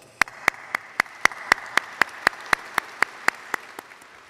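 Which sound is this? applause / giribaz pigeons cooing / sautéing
applause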